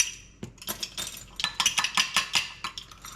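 A spoon clinks rapidly against a bowl while dry spices for Cajun butter are mixed together, producing bright, irregular metallic taps that quicken into a steady stirring rhythm.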